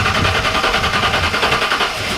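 A V8 truck engine turns over and catches, settling into a loud, steady, throaty exhaust rumble with a rapid pulsing beat, close by.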